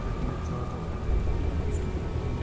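Steady rain hisses with a low, continuous thunder rumble beneath it, heard alone in the video game Last Days of Lazarus.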